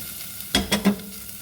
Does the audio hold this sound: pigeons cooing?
no